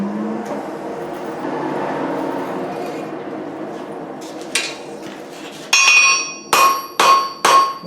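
Hammer blows ring out on hot metal at an anvil while a wreath hook is forged, first duller knocks, then four loud, evenly spaced ringing strikes close up after a stretch of background roar.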